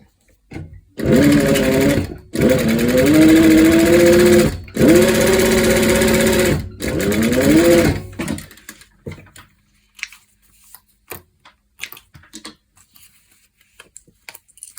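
A sewing machine top stitches leather corset pieces with a presser foot near the edge, running in four loud, close bursts with short pauses between them, then a few quiet clicks and handling sounds.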